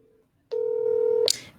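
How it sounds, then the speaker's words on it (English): A telephone call goes out: a steady electronic dialing tone holds for under a second, then gives way to a brighter burst as the line begins to ring, loud and close, with no talking. "I think I'm going to give you a call"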